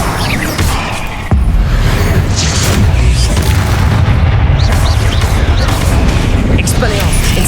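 Bombarda spell explosions in the Hogwarts Legacy video game, a dense, continuous rumble of heavy blasts with a sharp impact just after the first second, loud throughout.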